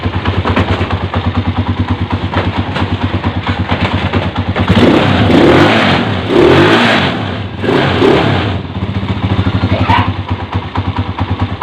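A Honda 155 scooter engine idles with a rapid pulsing putter, then revs up in several loud surges before settling back to idle, close and alone with no talk.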